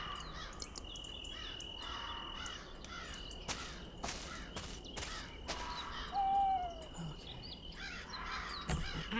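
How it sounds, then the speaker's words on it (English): Harsh, scratchy video game crow cawing calls ring out against a steady hum of outdoor ambience, with a brief whistling tone midway and intermittent clicks. "Don't you love the crow noises?"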